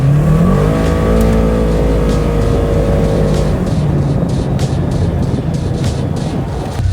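A Polaris Ranger 1000 utility side-by-side accelerates hard in a drag run, its engine rising loudly in pitch through the gears before settling into a steady roaring drone.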